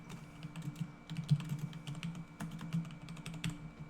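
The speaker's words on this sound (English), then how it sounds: "now we'll just type some stuff" Rapid typing on a computer keyboard, irregular bursts of close, crisp key clicks over a low steady hum, with no voices.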